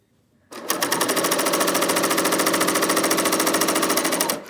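A BERNINA L 890 overlocker sews knit fabric, starting abruptly into a loud, fast, steady mechanical whirring with rhythmic needle chatter, then stopping after about four seconds.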